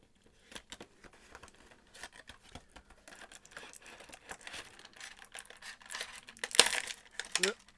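Scattered clicks and rustles of toy box packaging being handled, then a sharp burst of a knife slicing through packaging tape near the end, close and fairly loud.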